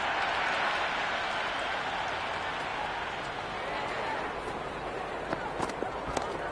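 Cricket stadium crowd at an India versus Pakistan T20 final in Lahore roars and claps after a boundary, a broad sustained wash of cheering with scattered sharper claps and shouts, a commentator's voice running over it.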